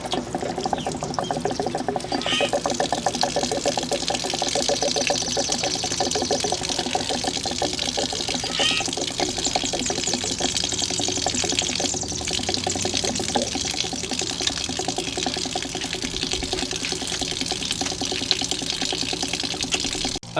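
Steady rushing and splashing of water draining out of a water heater, continuous and fairly loud throughout with no voices.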